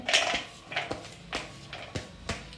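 Ingredients for raw mango churumuri are stirred and tossed in a bowl, giving about eight sharp clinks and taps of a spoon against the dish at an uneven pace, close and fairly quiet.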